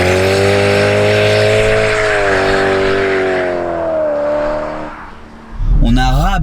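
A BMW M140i fitted with an M Performance limited-slip differential holds a loud, droning engine note that sags and fades before a sharp rising rev and surge as it launches from a standstill, close and powerful.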